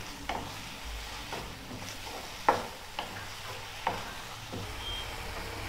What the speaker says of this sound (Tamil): இது நல்லா ஃப்ரை ஆயிச்சு